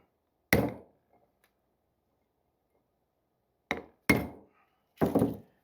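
Four sharp taps of a small hammer driving a socket against a seal on a 1981 Corvette, close and distinct: one strike, a long pause, then three more in fairly quick succession, with no talking.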